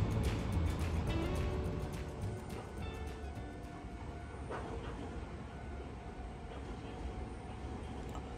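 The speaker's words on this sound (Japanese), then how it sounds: "列車がやってきました。 伊予鉄のね3000系です。" An Iyotetsu 3000 series train, formerly run on the Keio Inokashira Line, rumbles into a station, loudest at first and then settling into a steady lower roll with some faint squeals and clanks.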